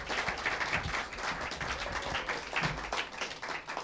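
An audience at the Salem Access TV annual meeting in 1999 applauds in a sustained, dense patter of many hands that stays fairly even for several seconds with no talk over it.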